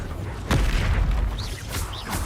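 The Confringo fire spell from Hogwarts Legacy goes off as a sudden booming explosion during combat, followed by a rumbling wash of battle noise and a couple of softer whooshing effects.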